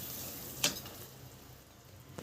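A pot of ghee rice bubbles and sizzles softly at a low level as it boils, with one brief sharp clink partway through and no voices.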